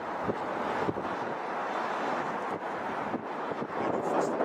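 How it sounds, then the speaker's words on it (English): Strong wind buffets the microphone in a steady roar with gusty surges, broadband and loud throughout, no other sounds standing out. "Yes, it is windy, my friend. Very windy."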